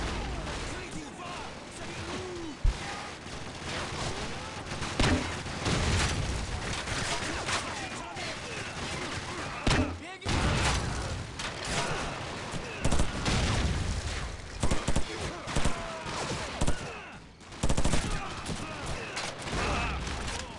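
Heavy gunfire in Call of Duty 4 Modern Warfare, with dense bursts of automatic weapons and sharp single shots continuing throughout, broken by brief lulls, and voices talking over the shooting.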